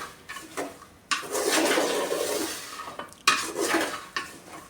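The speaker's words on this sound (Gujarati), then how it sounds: "આ રીતે આપણે સતત હલાવતા જ રહેવાનું છે." Peanuts roasting in salt in a pan are stirred continuously, giving a gritty, rattling scrape in two long bursts with short pauses, close and fairly loud with no talk.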